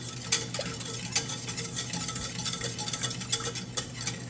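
A whisk beats milk into a flour and butter roux for a béchamel-style potato soup base, making soft, quick, rhythmic ticks and scrapes against the pot at low volume with no voices.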